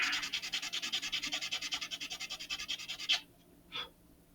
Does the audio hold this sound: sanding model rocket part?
yes